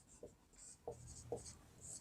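Pen writing on paper while working a school maths problem on a cuboid pit's dimensions; three short scratchy strokes spaced apart, close and fairly quiet with no talking.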